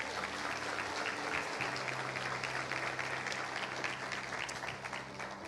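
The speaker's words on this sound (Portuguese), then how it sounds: "Você pode dar uma salva de palmas a Jesus." A church congregation applauds together in a steady, dense wash of clapping that holds for several seconds at an even level, with a low hum underneath.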